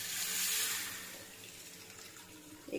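Tamarind water pours from a vessel into a cooking pot for egg pulusu, a steady splashing liquid stream that is loudest early and then tapers, ending in a brief knock.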